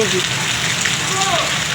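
Heavy rain falls in a steady, dense wash for a moment, with faint voices underneath.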